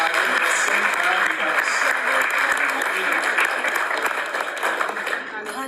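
A crowd claps steadily and loudly for a lottery winner at a prize draw, continuous applause throughout that eases slightly toward the end.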